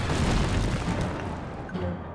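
A confusion grenade bursts in Psychonauts with a single loud boom right at the start, its rumbling tail fading over about two seconds, with a faint chime-like sparkle near the end.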